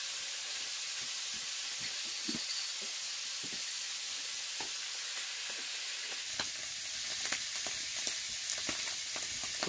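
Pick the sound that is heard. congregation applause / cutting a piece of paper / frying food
frying food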